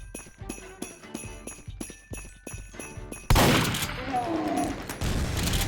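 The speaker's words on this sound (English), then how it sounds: "Oh, presumably these are the shotguns." Trap shotguns fire in a Team Fortress 2 deathrun map, starting as a rapid series of sharp metallic shots against a musical background, then breaking into a loud, sustained blast of noisy gunfire.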